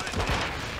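Brief loud burst of gunfire from the video game Call of Duty Modern Warfare II, rapid shots packed into under a second with no clear voice.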